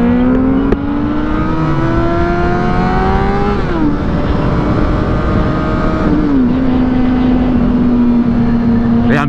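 A Ford Mustang accelerates hard on a road, its loud engine note climbing steadily in pitch, dropping briefly at a gear change, then pulling again over constant road and wind rumble.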